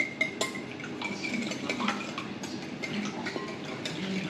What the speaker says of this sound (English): Just whisk eggs up there.